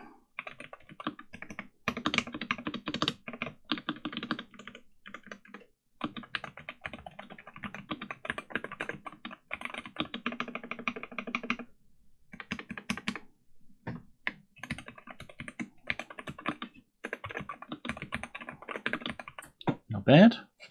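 Rapid typing on a custom Wooting 60HE mechanical keyboard, close and crisp, with dense clicking bursts that pause briefly around the middle and a short thump near the end; no talking.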